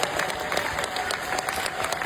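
An audience applauds steadily, with dense continuous clapping throughout at a fairly loud, even level and no talking.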